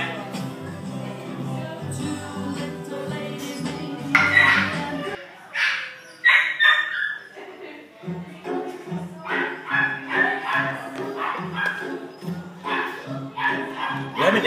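A mini schnauzer puppy gives repeated high yips and short barks, breaking into thin whimpers between bursts, close by and fairly loud.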